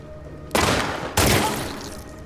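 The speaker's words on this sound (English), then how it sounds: "just the shots that you take are just so realistic when you hit them in the head or the body" Two loud bursts of gunfire from The Last of Us Part II, each striking sharply and then trailing off, the second about half a second after the first, with no talking.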